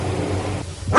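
A dog barks inside a home that also houses a lion: after a low, steady background hum, one short, fairly loud bark sounds close by at the very end.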